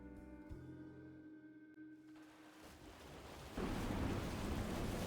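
Rain and a brewing hurricane storm in South of Midnight, a soft wash of rainfall and wind that swells into a louder, denser roar in the last second or so, with a low musical hum fading underneath early on.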